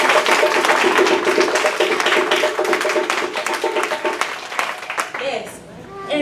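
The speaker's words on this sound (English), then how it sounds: "Let's give them a round of applause." An audience applauds a drum and dance company at a Gullah Geechee Black History celebration, with dense, steady clapping that fades near the end as voices and cheers rise over the crowd.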